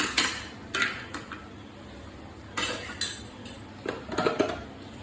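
A dry fruit shake is stirred and poured into a vessel, heard as several light clinks and taps of a spoon against metal, quiet and spaced out.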